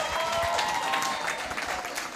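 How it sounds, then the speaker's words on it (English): Workshop audience applauding at a strategic thinking workshop and expo, a steady wash of many hands clapping from a sizable crowd, fairly loud and continuous, with faint voices underneath. "give yourselves a round of applause"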